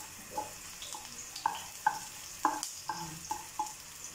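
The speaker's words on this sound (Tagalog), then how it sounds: "mainit na yung kawali natin. Lagay natin una ang sibuyas" Onion sizzles in a hot pan, with quiet frying hiss and a run of regular scraping and clinking strokes as it is stirred, fairly close and alone.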